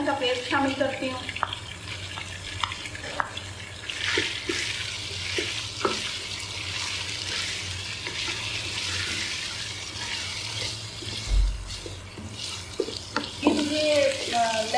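Chicken frying with ginger garlic paste for biryani, a steady sizzle with stirring scrapes and clinks running throughout, fairly close and continuous with no talk.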